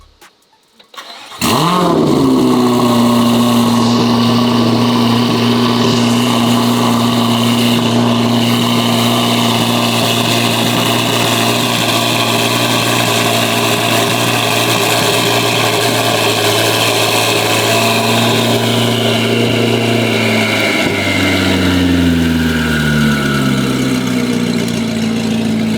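Chevrolet Corvette C8 ZR1 with a loud custom exhaust barking to life after brief quiet, then settling into a deep, steady idle close by, with the pitch dropping and wavering near the end.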